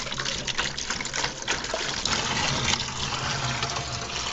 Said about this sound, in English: Now we're pouring the water in